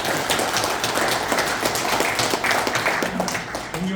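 Crowd applause at a year-end party of a Korean political party district chapter in Naju and Hwasun, dense steady clapping from many hands filling the hall, with a voice starting to speak near the end.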